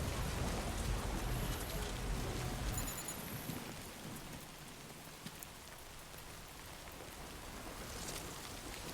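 Timefall rain in the video game Death Stranding 2: steady, hissing rainfall with low rumbling at first, easing into a softer, even downpour.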